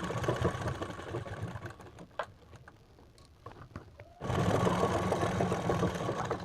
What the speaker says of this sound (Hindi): गले पर और बिल्कुल बुकरम के जड़ पर सिलाई लगाएंगे